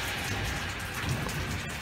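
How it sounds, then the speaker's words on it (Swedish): Hail falls in May, a dense continuous pelting and hissing patter of ice striking surfaces, steady and loud throughout with no voices. "Hur fan kan det regna is?"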